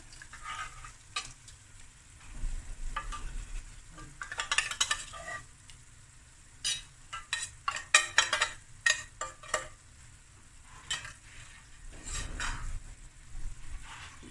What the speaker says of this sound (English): now I'm going to add my tuna with sauce and all